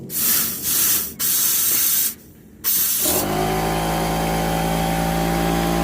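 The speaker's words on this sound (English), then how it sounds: "So there's the line that goes to the tank. I'm just going to shoot some air through it," Compressed air blasts in hissing bursts through the fuel line of a 1976 Ford F-150, loud and close with brief pauses, then gives way to a steady droning air compressor.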